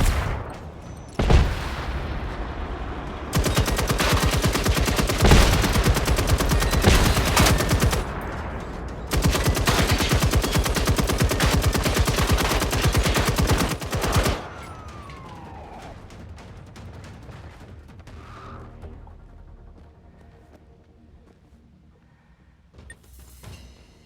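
A machine gun fires long, rapid automatic bursts in the video game Generation Zero during a base defense, loud and close, with short pauses between bursts before the firing stops and quieter game ambience and a few faint sounds trail off.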